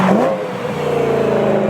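A Shelby GT500 engine revs at half throttle, rising fast into a loud, rough snarl that then holds steady, close by and alone.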